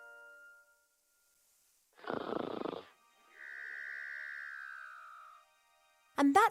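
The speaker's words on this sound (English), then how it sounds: "And that's the sound of Cheep Cheep snoring." Cheep Cheep, a character in the game The Book of Unwritten Tales 2, snores in a cartoonish cycle: a rasping inhale, then a long whistling exhale that slides gently down. A voice is briefly heard at the start and a sharp noise at the end.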